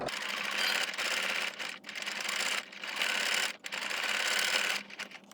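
A sewing machine runs steadily, stitching a face mask made of sequin fabric, a fast close-up mechanical whir broken by a few brief pauses.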